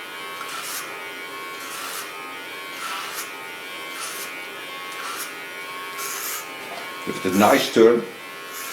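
Hair clipper buzzing softly while cutting a short pixie haircut, a faint steady drone under a stylist's talking, ending with a few louder handling sounds.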